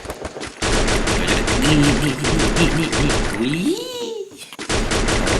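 Bursts of rapid gunfire in the battle-royale game Free Fire, loud and dense, with a brief lull before the shooting resumes, and excited voices talking over it.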